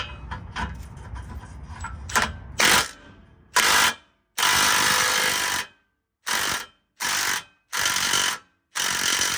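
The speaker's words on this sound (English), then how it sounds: "Let's see if it's loose enough for the drill now." A power drill or impact tool loosening an 18mm suspension bolt on a 2000s Chevrolet Tahoe/GMC Yukon front end, first some rattling tool noise, then a series of loud rapid bursts separated by short silences.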